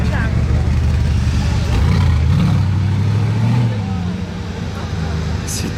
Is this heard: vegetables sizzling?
no